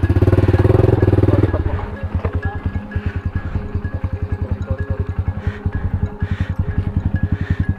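A motorcycle engine chugs steadily as the bike rides a narrow rural trail, a loud close throb that revs hard at first, then settles into an even pulsing beat.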